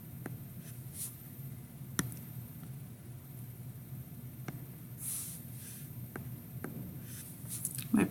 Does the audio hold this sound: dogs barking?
no